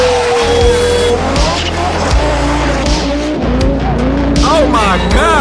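A Group B rally car roars past on a road, engine revving hard and tires squealing, loud and close, with people talking and exclaiming over the noise.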